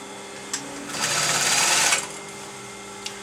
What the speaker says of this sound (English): I want to stitch this on the very, very outside